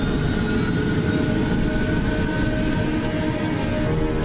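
Airliner jet engines on an Air France flight 296 test flight, a loud sustained roar with a rising turbine whine as the engines spool up toward full throttle, continuous and close.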